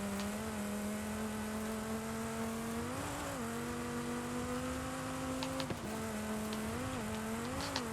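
An off-road car engine in Forza Horizon 5 hums at a steady pitch during a Baja cross-country circuit race, rising briefly around mid-run and again near the end as the throttle comes back on, a continuous drone with no talk.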